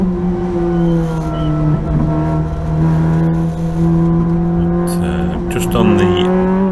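Rally car engine held at high revs in fifth gear at about 90 mph on a narrow back lane of a Mull rally stage, a loud steady drone heard from inside the car, with a brief shift near the end.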